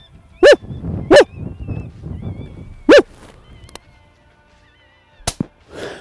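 A single sharp rifle shot cracks out near the end of a Kansas coyote hunt, preceded by a few loud, barking 'woo' calls from a person imitating a coyote to stop it, with faint background noise in between.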